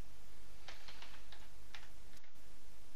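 A handful of light, quick keystrokes on a computer keyboard as an in-game command is typed for the 7 Days to Die prefab editor, soft and close over a steady background hiss.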